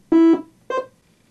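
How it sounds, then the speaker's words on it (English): Korg IMS-20 synthesizer playing its basic init patch with a single sawtooth oscillator: two short, bright buzzy notes, the first slightly longer, each ending abruptly, with silence after. "What you're hearing is one oscillator, and it's set to a sawtooth sound."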